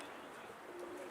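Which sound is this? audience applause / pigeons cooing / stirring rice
pigeons cooing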